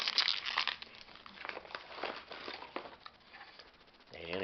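A cheddar cheese pretzel Combos snack bag is torn open and handled close by, giving a continuous dense plastic crinkling and rustling throughout.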